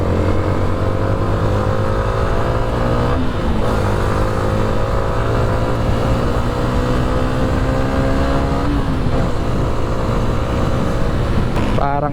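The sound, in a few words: motorcycle engine running with stock exhaust pipe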